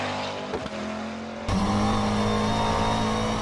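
McLaren race car engine at Brands Hatch in a sim racing game, a loud continuous engine drone that rises in pitch and intensity as the car accelerates, alone with no talk.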